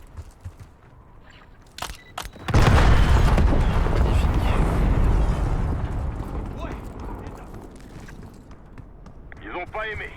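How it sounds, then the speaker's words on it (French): A C4 charge detonates in Call of Duty Black Ops 6, starting with a few sharp clicks, then a sudden loud, deep blast that rumbles and slowly fades over several seconds, with faint game sounds trailing at the end. "On va mettre le petit C4 dessus. Hop, on va faire exploser."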